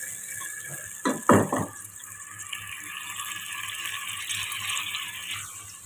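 Water is poured into a pot of softening onions while cooking moong dal khichdi, a steady running pour with a few louder splashes near the start, close and continuous for several seconds.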